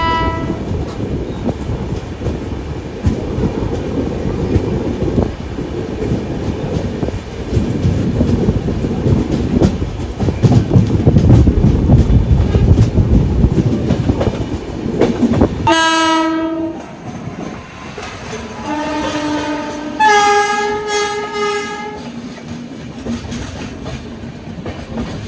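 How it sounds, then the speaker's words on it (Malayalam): An express train from Katra to Sabarmati rumbles past loudly with a continuous clatter of wagons, then sounds several long blasts of its multi-tone horn near the end. "ഇത് ഖത്രയിൽ നിന്നും സബർമതിയിലേക്ക് പോകുന്ന ഒരു എക്സ്പ്രസ് ആട്ടോ."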